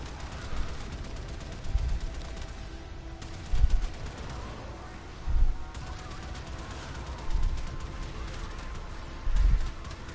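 Railjack gunner weapons firing in space combat in Warframe, five or six heavy bursts of fire a couple of seconds apart over a steady ship hum and faint music, with no talking.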